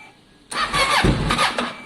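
A Kawasaki ER6n motorcycle, a salvaged wreck being rebuilt as a streetfighter, cranks and fires abruptly after a quiet moment, then settles into a loud, steady idle close by with slight fluctuations.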